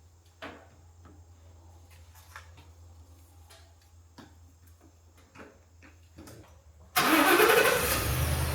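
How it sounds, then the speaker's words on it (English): Starter cranking a seized Nissan SR20 engine: after quiet clicks and faint taps, a loud, harsh starter grind bursts in near the end and continues, dense and close, with no talk. "I'm trying to get this thing at least cranked over, the engine spinning."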